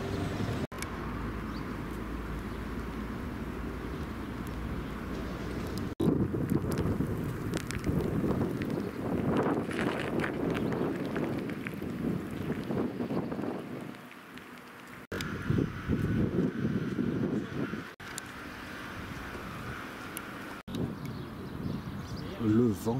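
Steady rain pours down in Dijon while gusts of wind rise and fall, with a voice speaking now and then over the stormy wash.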